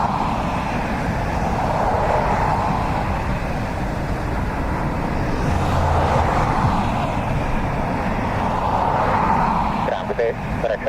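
A Ryanair jet lands in a crosswind at Dublin Airport, producing a steady, broad engine roar that swells around the middle and stays loud for about ten seconds.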